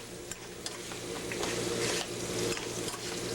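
Ground meat with breadcrumbs for sloppy joe stirred in a pan, a steady low sizzle under repeated spoon scrapes and light clinks against the pan.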